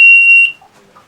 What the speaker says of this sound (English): as you can hear, we've got quite a lot of alarms on the boat